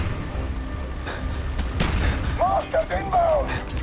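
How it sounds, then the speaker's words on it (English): Mortar rounds launching amid heavy gunfire in Call of Duty: Black Ops, with sharp broadband blasts over a constant dense battle roar while voices shout nearby. "Firing mortar!"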